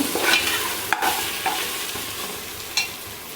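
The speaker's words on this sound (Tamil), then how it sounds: "நல்லா எண்ணெயிலே வதங்கட்டும்." Ginger garlic paste sautéing in oil for a home-style biryani: a faint steady sizzle broken by a few quick spoon scrapes and taps, with no voices.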